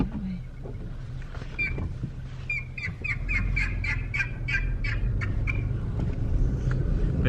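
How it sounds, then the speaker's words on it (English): A Merriam's wild turkey gobbling outdoors during a western turkey hunt, one rapid rattling gobble burst heard at a moderate distance over a low rumbling background. "Just done it now, and a dang turkey gobbled."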